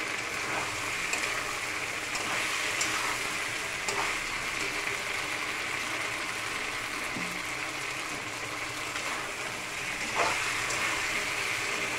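Boiled potato and cauliflower sautéing in a pan, a steady soft sizzle with faint stirring scrapes, close and continuous without talk.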